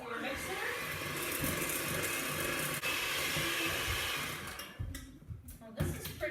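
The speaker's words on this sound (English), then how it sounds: "Then you're just going to mix that up with your mixer." Electric hand mixer beating about three cups of powdered sugar into a thick chocolate brownie frosting, a steady loud whir running continuously, then sputtering and cutting in and out near the end as the beaters work the stiff mixture.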